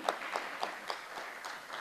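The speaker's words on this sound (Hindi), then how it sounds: "अभिनंदन के इन पलों में यदि तालियां गूंजती रहें" Scattered hand claps from an audience at a felicitation ceremony, a handful of separate bursts spread evenly through the stretch rather than a dense roar, moderately close and fairly quiet.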